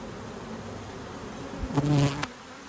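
Honeybees buzzing around an open hive during an inspection, a faint steady hum that swells briefly with a closer bee passing near.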